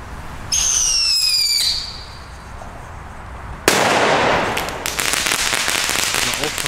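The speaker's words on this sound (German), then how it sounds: "Das war auch ein Blitzknall, aber ein schöner Oldschool-Böller." A P1 flash-powder firecracker goes off with one sudden, sharp, very loud bang, followed by rattling debris and echo. A whistling, rising firework tone is heard just before it, and there is no speech.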